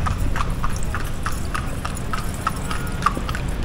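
A horse's hooves clip-clop on a Manila street in a steady, close, even rhythm that runs throughout over a low background murmur.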